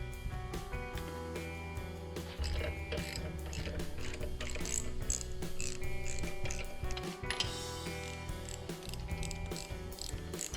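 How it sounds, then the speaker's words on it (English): A hand ratchet loosens the bolts holding mini bike handlebars to their risers, making rapid, close, steady clicking that runs almost continuously, with brief pauses between strokes. "So I might as well pull these bars off the risers"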